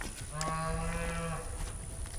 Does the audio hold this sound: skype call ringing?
no